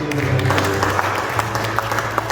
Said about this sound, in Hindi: आइए हम सब जोरदार तालियां खुदा यीशु मसीह के नाम में